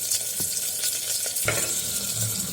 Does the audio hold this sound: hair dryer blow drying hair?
no